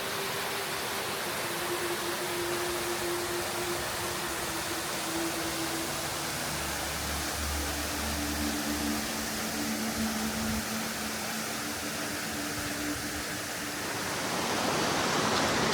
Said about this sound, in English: You push through a few final branches and there it is, Skalovitski Waterfall.